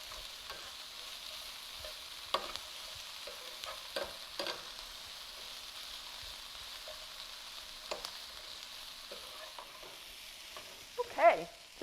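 Zucchini and onions sauté quietly in a pan for tacos, giving a faint, steady sizzle with occasional soft clinks and stirring scrapes and a brief louder clatter near the end.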